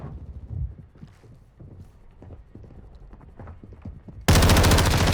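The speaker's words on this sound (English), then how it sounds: "Oh, that was some great shooting right there" Gunfire in Payday 3 bursts in suddenly as a loud, dense, sustained volley after a stretch of quieter rhythmic clattering and low background noise.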